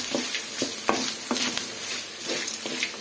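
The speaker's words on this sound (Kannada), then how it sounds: "ಒಂದೊಂದು ಈ ಥರ ಸೇರಿಸ್ಕೊಂಡು ಈ ಥರ ಚೆನ್ನಾಗಿ ಫ್ರೈ ಮಾಡ್ಕೊಬೇಕು." Grated coconut and asafoetida fry in a pan while a spoon stirs them, a steady sizzle with repeated scraping strokes close by.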